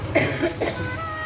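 Two quick, close coughs, one right after the other, with nothing else but faint room tone.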